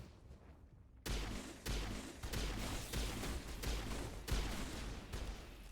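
Shotgun fire in the video game Mass Effect, a series of heavy booming blasts at irregular intervals over a dense rumbling battle background, loud and close, with no talking.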